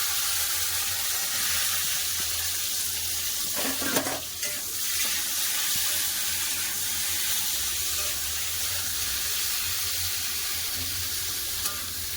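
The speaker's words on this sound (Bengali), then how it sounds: "তেলও গরম হয়ে গেছে এবার দিয়ে দেবো পটল সবগুলো একসাথে দিয়ে দেবো" Pieces of pointed gourd sizzle in hot oil in a wok, a steady broad hiss that fills the whole stretch, broken once by a brief louder clatter as the pieces are tipped in and stirred.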